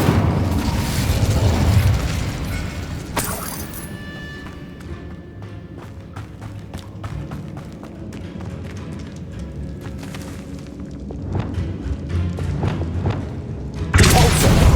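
Fire spells burst in Hogwarts Legacy gameplay, starting with a heavy, booming rush of flame. Sharp cracks and thuds follow, and a second loud burst comes near the end.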